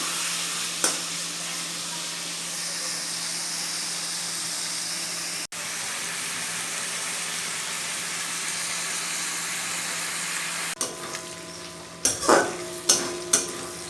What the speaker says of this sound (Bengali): এবার আমি চিংড়ি মাছগুলোকে এর মধ্যে দিয়ে দেবো মাছগুলোকে ভালো করে ভেজে নিই